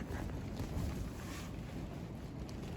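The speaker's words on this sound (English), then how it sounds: "It's like 40-mile-per-hour gusts." Strong gusts of wind blow over a winter river during a fishing trip, buffeting the microphone with a continuous loud low roar and rushing noise throughout.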